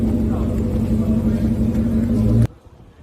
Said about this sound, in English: Trying to get all the cars out of the garage right now.